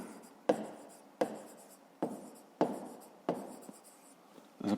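Pen or marker strokes writing numbers by hand while working a fifth-grade maths exercise, about five sharp onsets each trailing into scratchy rubbing, close and fairly quiet with no talking.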